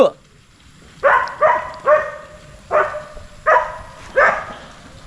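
Dogs barking outdoors in the mountains during heavy rain, six or seven loud, close barks in an uneven series with a brief gap midway.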